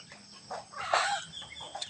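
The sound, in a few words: chickens clucking on a farm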